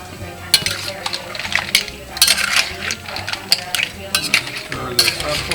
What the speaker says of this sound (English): Stir this up a little bit.